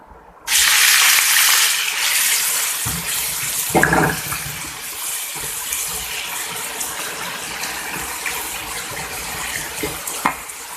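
Lamb liver dropped into a large hot pan, a loud sudden hiss of frying that starts abruptly and holds steady, with a few clatters and scrapes along the way.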